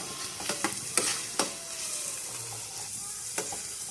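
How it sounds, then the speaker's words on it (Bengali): Onions fry in a pan for Bengali egg paturi, a steady soft sizzle broken by several sharp stirring scrapes, close and fairly quiet with no talking. "একটু সময় নিয়ে ভাজবো পেঁয়াজগুলো।"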